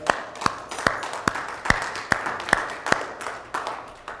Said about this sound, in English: Let's honor the Lord with a hand clap praise offering.